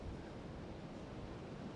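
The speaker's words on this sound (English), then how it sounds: "We've got wind battering in our faces," Wind batters across the middle of a lake, a steady, broad rushing roar with microphone buffeting and no speech over it.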